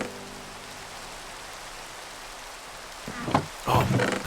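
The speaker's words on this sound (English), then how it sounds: "There's the soothing rain." Steady rain falling in the Minecraft Skyfactory 3 game world, a soft, even hiss throughout, joined near the end by a few brief louder clunks.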